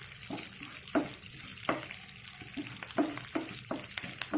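Ingredients for a banana flower curry with mustard sizzle steadily in a hot pan, with irregular scraping and clinking strokes of stirring close by and no talk.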